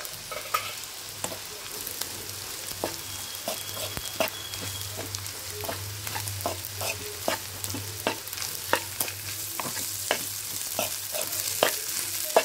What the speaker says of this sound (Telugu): కొంచెం కొంచెం రైస్ వేసుకుంటూ కలుపుకోవాలి